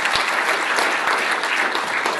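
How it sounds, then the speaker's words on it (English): A closing-session audience gives a warm round of applause, dense, even clapping from a large crowd filling the room at full loudness for about two seconds. "please give them a warm round of applause"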